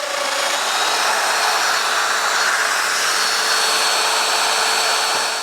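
Domino joiner cutting mortise holes in wooden coffee table legs, a continuous loud high-pitched whine held steady and close, with no speech.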